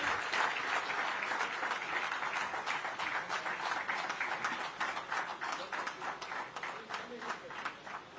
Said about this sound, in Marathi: टाळ्यांचा जो गडगडाट आहे तो आपण सर्वांनी सुरू ठेवायचा आहे